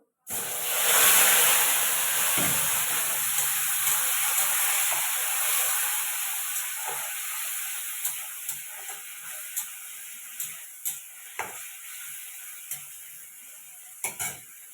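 Onion, ginger and garlic hit hot oil in a wok for a chicken kosha, bursting into a loud steady sizzle that hisses on throughout, with sharp utensil clicks and scrapes tapping more often toward the end.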